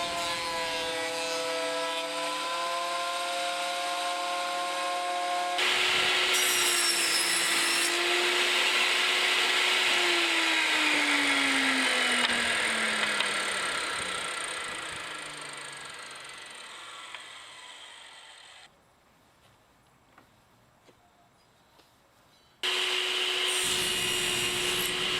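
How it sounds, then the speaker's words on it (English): A hand plane shaves across the grain of a wooden gift box panel, producing long, continuous rasping strokes that rise and fall. A quieter stretch follows before the scraping resumes loudly near the end. No one speaks. "I know I'm planing across the grain"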